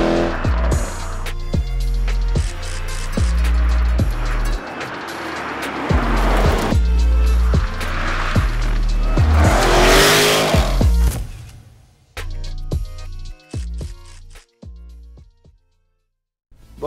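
A Jaguar F-Type SVR coupé accelerates hard, its engine roaring loudly and rising in pitch through repeated gear changes, with sharp pops and crackles as the throttle lifts near the end, and no talking.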